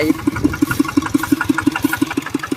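Steady, rapid chugging of a farm tractor engine idling close by during a rice harvest, a regular rhythmic putter with no voices.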